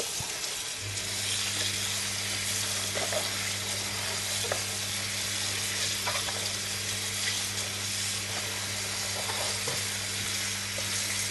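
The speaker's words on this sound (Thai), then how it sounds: "เอามาล้างแยกเป็นใบๆเพื่อเอาเศษดินเศษทรายใน ที่อยู่ตรงบริเวณโคนผักออกนะครับ" Napa cabbage leaves being washed one by one in water to rinse soil and sand from the cut base, a continuous splashing, running-water wash with a steady hum underneath, close and fairly quiet.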